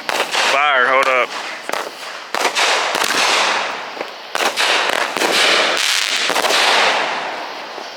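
Triple threat firework set off at an outdoor Fourth of July party, with a whistling launch followed by a rapid series of loud, close cracks and bangs. Voices are audible between the blasts.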